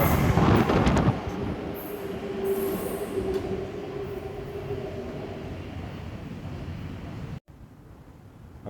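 A London Underground train rumbles and rattles through a station, loud and close, with metallic wheel squeal and a hum that fades off before sudden quiet.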